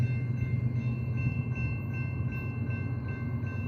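A California train rumbling at a railroad museum, a continuous low steady roar with faint tonal whine, heard close and alone.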